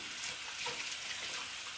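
Hands rinsed under a running kitchen tap after handling sticky almond, coconut and cocoa mixture, a steady faint hiss of flowing water with soft splashing, heard alone.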